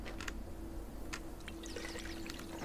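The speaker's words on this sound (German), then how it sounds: "wir müssten hier nochmal gießen" Watering plants in the video game Garden Witch Life: a faint, steady trickle of poured water with small splashes and clicks, quiet and continuous throughout.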